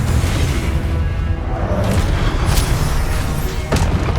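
A Confringo fire spell explodes during a Hogwarts Legacy duel, loud thumping blasts and bursts piled on a dense, constant roar of combat noise, with a couple of sharper pops standing out near the end.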